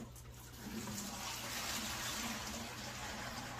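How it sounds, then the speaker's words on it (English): Water pours from a hose into a fish tank, a soft, steady gushing and filling sound that swells after a moment and holds evenly, faint and alone. "You just stick your hose in the water like so and just let it fill up."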